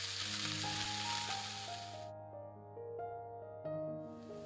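Chopped vegetables with onion, ginger and green chilli sizzle in a pan. The loud hiss fills the first two seconds, then drops away, and a tune plays steadily in the background the whole time.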